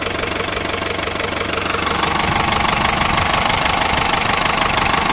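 A Mercedes W115 220D diesel engine running after its fuel system was purged and pressurized, a loud, steady knocking clatter with a rough, even idle rhythm, close up and without talk.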